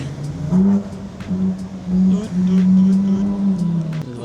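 A Ferrari drives past on a road on Oahu, its engine note rising and falling in sustained revving surges, fairly close and loud, with faint background voices.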